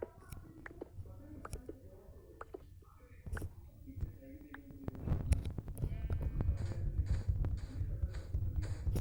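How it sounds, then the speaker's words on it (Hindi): A goat bleats a few times in a video game, with soft footsteps and game effects around it while a player speaks quietly. "मुझे बकरा दिख गया।"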